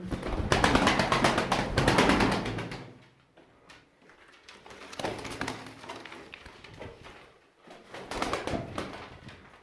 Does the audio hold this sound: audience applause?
no